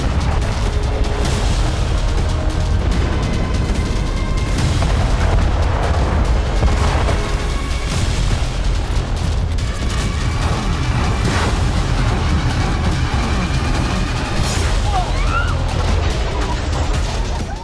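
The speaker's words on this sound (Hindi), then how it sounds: "खार्किव पर 15 दिनों से लगातार भारी गोलाबारी हो रही है।" Heavy artillery shelling in Kharkiv during the war in Ukraine: a dense, continuous barrage of booms and overlapping blasts, loud and sustained throughout without pause.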